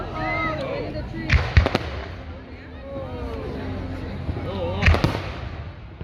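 Fourth of July fireworks in 2022 at Rancho Cordova, Sacramento, California: whistling rockets rise, then two loud bursts of booming explosions crackle some distance off while people talk nearby.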